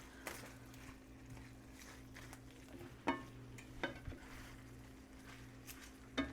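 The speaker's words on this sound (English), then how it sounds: "It's just folding over your spinach, waiting for it to get melty, wilty." Spinach is folded into creamy sausage pasta in a pan, quiet soft stirring and squishing with a few sharp spoon taps against the pan over a low steady hum.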